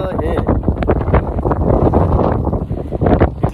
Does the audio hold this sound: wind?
yes